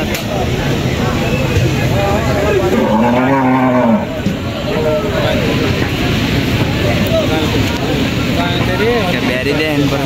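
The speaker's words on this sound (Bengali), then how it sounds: "গরুগুলো নিয়ে যান।" Cows at a busy cattle market in Saidpur, Narayanganj give a loud, drawn-out moo near the middle, with fainter lowing later, over constant crowd chatter and people talking nearby.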